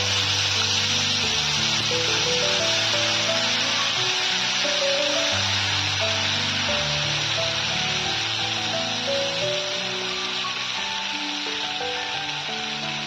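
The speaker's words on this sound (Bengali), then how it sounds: "বন্ধুরা, লঙ্কা দেওয়ার পর 2 মিনিট ভেজে নিয়ে" Green chili paste fries in a pan with a continuous hissing sizzle, steady and fairly loud, while melodic background music plays underneath.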